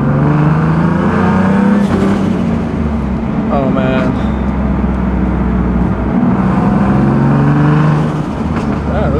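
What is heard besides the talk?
boosted Nissan 370Z Nismo engine revving, checking exhaust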